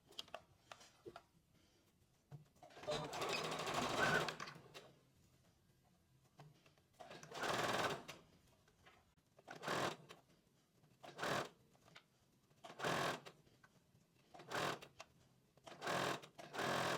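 A sewing machine hems a blouse sleeve in short separate runs of rapid stitching with quiet gaps between them, close up and with no talking.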